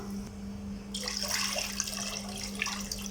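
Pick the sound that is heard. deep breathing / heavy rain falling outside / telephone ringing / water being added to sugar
water being added to sugar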